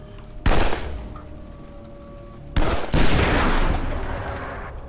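Gunfire bursts in the Wasteland 2 video game, two loud volleys of shots: one sharp burst near the start, then a heavier, longer stretch of firing that fades out slowly.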